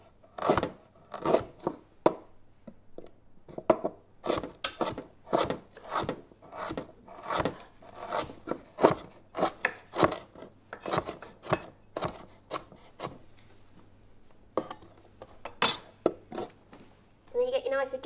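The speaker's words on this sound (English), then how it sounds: "And then you run your knife through the ginger." A knife chopping fresh ginger on a cutting board, with rapid crisp taps in steady bursts, close and clear, interrupted by brief pauses.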